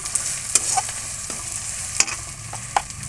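Chili powder being stirred into food in a frying pan: a continuous hiss of frying with several sharp spoon scrapes and knocks against the pan at irregular intervals, close and fairly loud, no talking.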